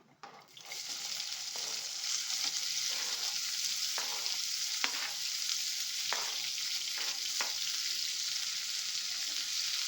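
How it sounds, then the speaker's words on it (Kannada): Chopped onions with cumin seeds frying in hot oil for a dahi bendi gravy, a dense steady sizzle close by, broken by a few soft clicks of stirring. "ಈರುಳ್ಳಿ ಸ್ವಲ್ಪ ಫ್ರೈ ಮಾಡ್ಕೊಳ್ಳೋಣ ಎಣ್ಣೆ ಹಾಕ್ಕೊಂಡು ಜೀರಿಗೆ ಹಾಕ್ಕೊಂಡು ಈರುಳ್ಳಿ ಹಾಕ್ಕೊಂಡಿದ್ದೀನಿ"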